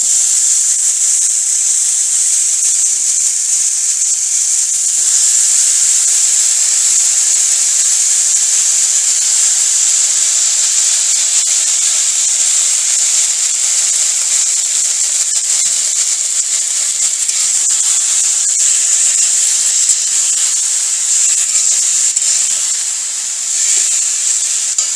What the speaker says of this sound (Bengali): এবার এর মধ্যে ডাঁটাগুলোকে তুলে দেব